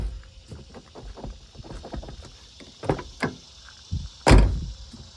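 A Mazda Miata NB door with new bushings is moved and shut, giving soft creaks and light knocks, then a couple of firmer thumps and a final loud, close slam.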